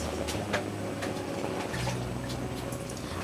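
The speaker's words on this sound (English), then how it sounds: "add little water as usual." A small amount of water pours onto frozen meat in a pot during gwete preparation, making a soft, continuous trickling splash with a few faint drips, low in level.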